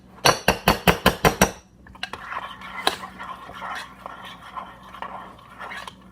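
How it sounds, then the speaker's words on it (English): A spoon stirring buffalo chicken dip in a bowl: a quick burst of about seven loud, evenly spaced clinks against the bowl, then softer, thicker scraping and mixing sounds close by. "Then we're gonna give it a nice stir."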